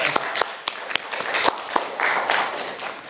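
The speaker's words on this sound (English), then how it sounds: "Round of applause first though." A small group at a seminar gives a brief round of applause, sparse individual claps standing out sharply against the room, with scattered clapping and some murmur throughout.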